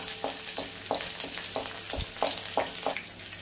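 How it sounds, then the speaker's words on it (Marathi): Green chilies and curry leaves fry in oil with cumin for sabudana khichadi, a steady close sizzle broken by repeated sharp scraping stirs at a quick, uneven rhythm, with no voices. "तेज्यात तरी वली मिरसांग घालया आणि करबेव घालया आणि चंद करून परतून घेवया।"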